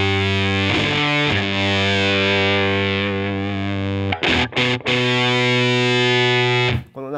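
An electric guitar played through an old EarthQuaker Devices distortion pedal rings out in loud, sustained fuzzy chords, with a few brief choppy breaks between held notes.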